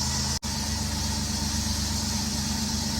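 Steady idle of a car engine after an ignition coil replacement, a low continuous rumble with an even tone, heard close and alone, with one brief dropout partway through.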